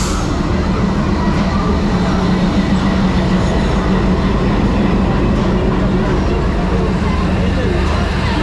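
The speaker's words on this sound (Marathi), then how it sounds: "7 वर आलोय आणि ट्रेन पण आले बघा दिवा पॅसेंजर." A Diva–Sawantwadi passenger train pulls into platform 7 on the Konkan railway in the rain, giving a loud, continuous rolling rumble of wheels and carriages that fills the whole clip without pause.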